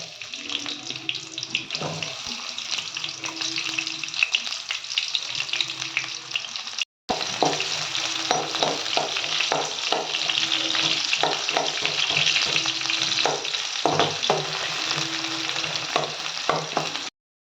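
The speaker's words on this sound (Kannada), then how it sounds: "ಎಣ್ಣೆ ಸ್ವಲ್ಪ ಕಾದ ತಕ್ಷಣ ಈರುಳ್ಳಿ ಹಾಕೊತೀನಿ" Onions frying in hot oil for simple egg rice, a close, steady sizzle with repeated stirring scrapes and clinks, briefly cut off by a short gap midway.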